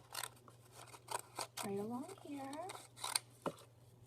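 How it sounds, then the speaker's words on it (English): Plain scissors snipping paper fringe at the end of a collage scarf, a series of close, crisp cuts in quick bursts, with a quiet voice speaking between them. "I'm going to get plain scissors and I'm going to cut like this some fringe at the end of the scarf"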